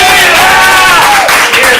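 A live comedy-improv audience applauds, whoops and cheers to vote for the blue team, a loud, dense crowd roar with shouted voices mixed in, fading slightly near the end.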